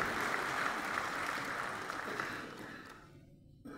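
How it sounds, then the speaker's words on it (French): Audience applause at a business award ceremony, a dense steady clatter of clapping that holds evenly and then fades out near the end. "Sous vos applaudissements, bien sûr."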